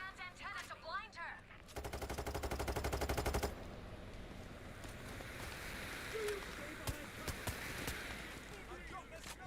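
Rapid burst of gunfire in a video game, aimed at a van's antenna near a bridge, a loud fast volley of repeated shots lasting about two seconds, followed by scattered single cracks over ambient game noise.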